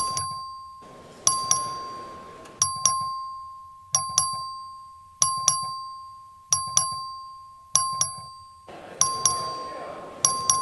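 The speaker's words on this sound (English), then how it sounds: "clerk ring the bell" A voting bell rings in the Texas House chamber, repeated sharp metallic ding strikes about every second and a half, each decaying under a steady tone, with a hushed room behind.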